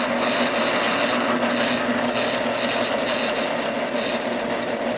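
A drill bores a hole straight through a wooden birdhouse wall about 3/8 inch thick, a loud, close, continuous whirring grind that holds steady for several seconds with no speech.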